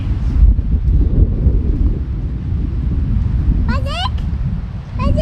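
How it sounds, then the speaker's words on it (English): Heavy headwind roars across an open disc golf course, a steady low rumble of gusts buffeting the microphone throughout, with a couple of brief faint whistling chirps near the end. "It's a lot of headwind."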